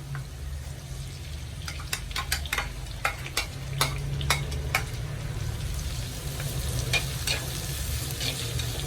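Crushed shallots fry in hot oil in a pan for a sardine curry, giving a continuous sizzle with scattered sharp ticks and scrapes of stirring throughout, close and with no talk.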